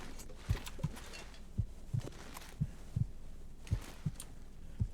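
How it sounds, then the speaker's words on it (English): A faint, steady heartbeat pulses in the background of a video game, soft paired thumps repeating at a slow, even rhythm with nothing else over it. "Just hearing the faint heartbeat in the background is just a little disconcerting."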